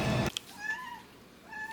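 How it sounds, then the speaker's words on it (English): A cat meows twice indoors in a kitchen where kids are eating, each a clear, rising-then-falling tonal call at close range, following a brief loud burst at the start. "He just called the kitty Abigail"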